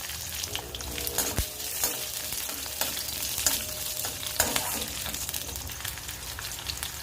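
Shallots, curry leaves and a dried red chili sauté in a hot pan for sambar, giving a steady close-up sizzle with occasional sharp scrapes and clicks of stirring.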